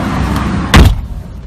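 A car door shuts with one loud, sharp slam close by, mid-clip, after steady low background noise inside a vehicle.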